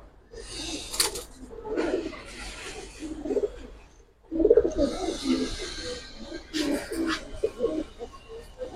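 Pigeons kept by a breeder, including red-geared double-patti Putul birds, coo in low rounded bursts, some close and some further back, with faint bird chatter and brief noises breaking in.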